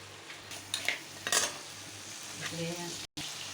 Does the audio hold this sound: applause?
no